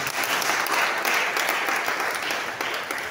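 A church congregation applauds the Lord together, a loud, steady wash of many hands clapping that fills the room without a pause.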